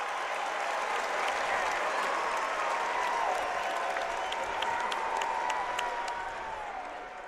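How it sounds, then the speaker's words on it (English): A home basketball crowd at Oakland men's game against Michigan State roaring and applauding after a dunk, a dense sustained wash of cheers and clapping that holds loud and then fades slightly at the end. "And listen to this crowd."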